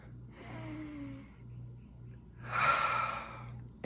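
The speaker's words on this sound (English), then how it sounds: "take a deep breath" A slow deep breath, a soft inhale followed by a louder, breathy exhale close to the microphone, over a faint low hum with no talking.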